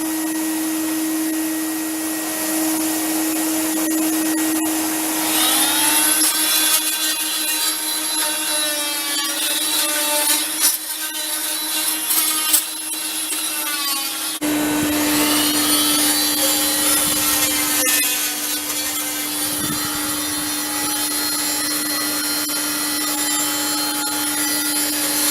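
A power tool fitted with a carbide blade cuts into the fibreglass rudder of a Ross 780 trailer yacht, grinding and whining steadily and loud throughout, with a brief break partway before the cutting resumes.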